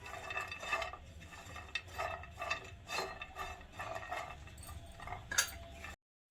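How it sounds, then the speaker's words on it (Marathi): Almonds, cashews and pistachios stirred in a pan with a little ghee, giving repeated close scraping and clinking strokes at a steady rhythm, with a faint frying hiss underneath. "बदाम काजू आणि पिस्ता याला थोडं फ्राय करत आहे थोडं तूप घातलं"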